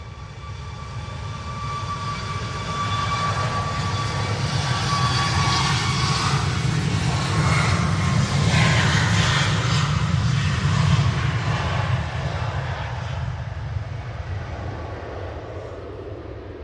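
A Ryanair airliner takes off from Manchester Airport bound for Murcia, its engines a steady, broad roar that swells slightly and holds throughout at moderate distance, with no voices over it.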